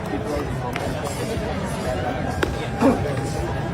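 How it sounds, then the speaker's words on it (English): Baseball stadium crowd reacting to a switch pitcher: a broad, steady murmur of many voices with a brief swell near the end, while a voice talks over it. "Listen to the crowd when he does it."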